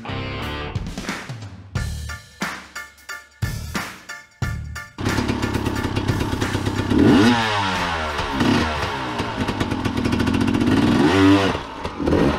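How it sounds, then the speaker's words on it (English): A hard enduro dirt bike in Colorado revs in sharp bursts, then roars continuously and climbs in pitch as it charges up and launches off a ramp, loud and close. "but first Bryce is gonna absolutely launch his bike off this ramp."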